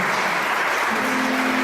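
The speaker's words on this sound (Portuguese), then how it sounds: "Vamos aplaudir?" A church congregation applauds during a worship service, a dense, steady wash of clapping held at even loudness throughout with no talk over it.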